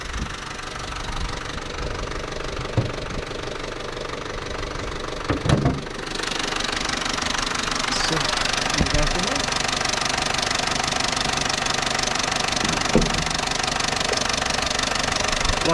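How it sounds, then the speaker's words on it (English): A hot Vauxhall Corsa C 1.4 petrol engine idles with a loud, steady, noisy clatter, heard close and continuous throughout, while someone talks over it. "this is a hot engine because I've taken it out for a drive earlier, and you can hear it's noisy, it's very noisy."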